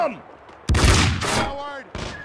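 Gunfire in Max Payne 2: a sharp burst of shots erupts right after a shouted line, followed by a second short burst, with voices heard around the firing.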